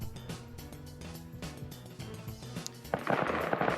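Gunfire in a PvP military video game match, rapid repeated shots in bursts over a low rumbling engine-like drone, with a louder burst of fire near the end.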